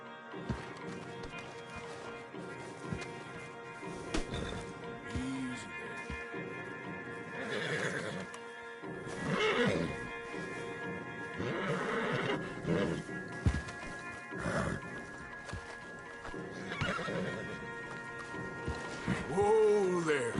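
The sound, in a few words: stallions neighing and hooves in Red Dead Redemption video game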